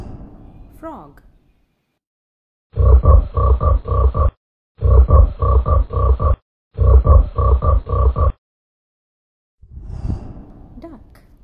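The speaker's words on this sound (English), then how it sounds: "Frog." Three bursts of low, rapid, rattling croaks like a frog, each lasting over a second, close and loud, with brief voice sounds at either end.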